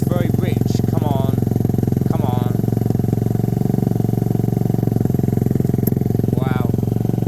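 A motorcycle engine running rich with the choke on, a steady close idle that stays loud throughout, with a few short voice sounds over it.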